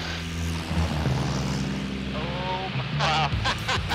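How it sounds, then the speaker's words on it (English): A small float plane's propeller engine drones loudly and steadily as it takes off, with people shouting and talking over the roar. "Taking off in a small airplane."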